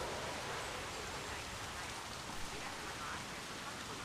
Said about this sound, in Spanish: ¿Se acaba la lluvia o no?